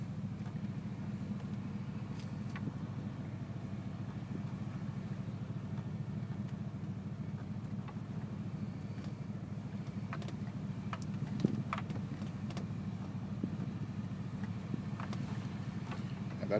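A pickup truck rolls slowly along a narrow road through Woodlawn Cemetery, its engine giving a steady, low, muffled rumble from inside the cab with no voices.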